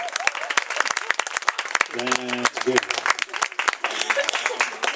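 Audience applause rises as a dense patter of clapping from a crowd at a hypnosis show, while a voice speaks briefly over it.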